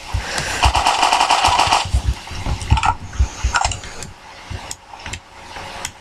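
Heavy automatic gunfire in a Garry's Mod zombie survival match, dense rapid bursts up close for the first two seconds, then scattered shorter bursts and single shots trailing off, with no talk.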